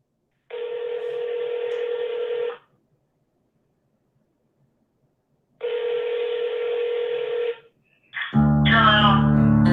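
Two long steady electronic telephone tones, each about two seconds with a pause between, followed by the start of a recorded operator announcement for a collect call from a correctional facility.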